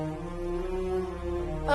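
A car horn sounds in one long, steady, loud blast from a car waiting outside, with a brief sharper rise at the very end.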